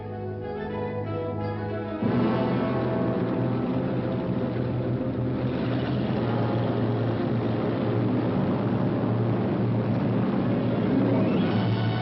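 British bomber aircraft engines drone loudly and steadily, a dense continuous roar that grows fuller after the first couple of seconds and holds without a break, with no voices over it.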